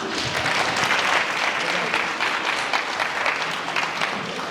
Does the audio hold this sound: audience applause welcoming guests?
yes